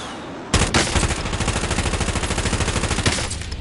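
Sustained rapid automatic gunfire in Warzone on PS5, a steady rattling burst of close, loud shots starting abruptly and continuing without pause to the end.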